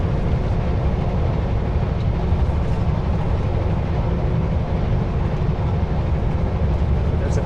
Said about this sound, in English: There's a train coming, a nice long grain train on the left-hand side.